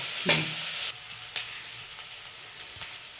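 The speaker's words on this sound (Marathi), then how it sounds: "कांदा लाल परतला म्हणजे चांगला लागतो" Onion frying in a pan for a sprouted moth bean curry, with a steady broadband sizzle and a sharp utensil scrape or stir near the start, then quieter scraping over the continuing hiss.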